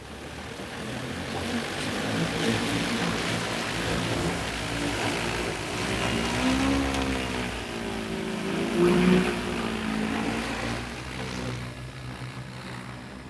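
EAVision J150 agricultural spraying drone flying out over a large field, a steady propeller whine that rises and falls in pitch as it moves away, at moderate distance with no talking.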